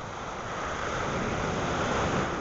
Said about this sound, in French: Donc on voit les énormes vagues